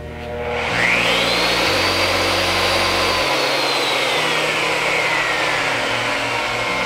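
A digital tube bending machine's motor returning to its starting position: a loud, steady whirring whine that rises quickly at the start and holds evenly, with its pitch sliding gradually down as it runs.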